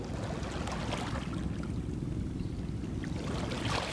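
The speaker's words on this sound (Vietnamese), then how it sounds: "ủi sóng nó xà xào hai bên kìa" A Ninh Thuận fishing purchase boat speeding through the sea, its hull plowing waves aside; a steady, loud rush of water and spray with engine rumble throughout, no voices.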